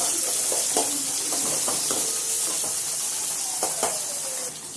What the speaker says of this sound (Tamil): அப்போ தான் குயிக்காக வதங்கும் வெங்காயம்